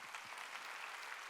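A church congregation at a Sunday worship service applauds. The clapping is brief, dense and steady and sounds fairly distant, with no talk over it.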